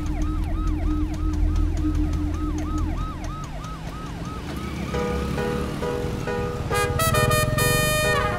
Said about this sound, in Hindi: एम्बुलेंस को रास्ता दे,